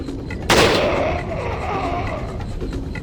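One loud, close gunshot booms out in Resident Evil 4 and its echo tails off slowly, with quieter background game sounds continuing after it.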